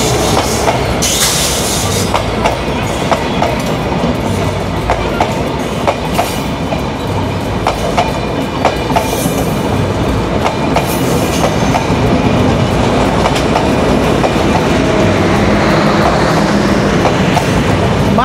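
Sundarban passenger train rolling through an old, neglected railway station in Bangladesh, with a loud, continuous rumble of railcars and rhythmic clickety-clack of wheels over rail joints, plus a brief faint wheel squeal, heard close by and without talk.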